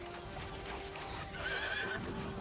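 A horse neighs in the game Mount & Blade II: Bannerlord, a clear whinny rising mid-clip over steady battle ambience and hoof clatter.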